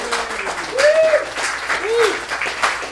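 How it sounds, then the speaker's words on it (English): A round of applause from a small audience at a guitar shop road show, steady clapping for about three seconds with a few whistles rising over it and some voices mixed in. "round of applause here for Jonathan Robinson"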